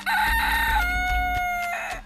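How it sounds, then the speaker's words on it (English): A little rooster alarm clock crows loudly and close by, one long drawn-out electronic cock-a-doodle-doo that falls in pitch partway through, heard alone. "This, ladies, is the Little Rooster Alarm Clock, designed to make you rise and shine like it's your birthday every day."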